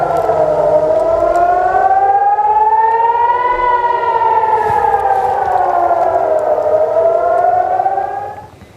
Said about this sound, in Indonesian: Warga Tel Aviv panik saat sirine peringatan serangan berbunyi.